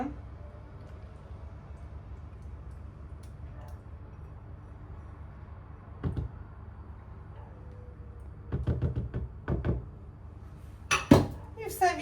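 Short bursts of quick metallic clinking, like a whisk tapping against a bowl, break a quiet background a few times, close by.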